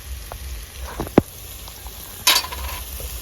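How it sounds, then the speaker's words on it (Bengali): Eggplant sizzles in hot oil in a rural Bengali kitchen as turmeric is added and stirred, a steady crackling fry broken by a couple of sharp scraping stirs and a brief louder hiss. "বেগুনটা আমার ভাজা ভাজা হয়ে যাচ্ছে"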